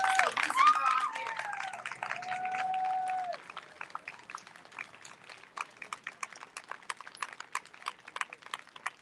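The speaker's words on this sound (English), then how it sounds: "please put your hands together for a round of applause for the Monterrosa family." Crowd applause at an outdoor justice rally for a young man, a loud burst of clapping that fades after a few seconds into scattered, lighter claps, with a voice speaking over the start.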